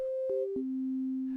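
A triangle waveform from a FabFilter synthesizer oscillator plays as three steady, clean tones stepping down in pitch, with a clicky attack at each change and the last note held longest.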